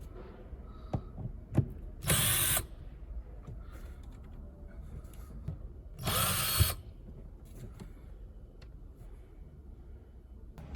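A power tool drives out bolts from a Kia Rio center console in two short, close whirring bursts separated by quiet pauses and faint handling clicks.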